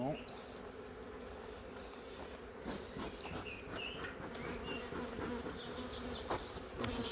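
Honeybees buzz steadily around the frames of an open beehive, including a brood frame and the queen's frame, a dense continuous drone that stays close and fairly loud throughout.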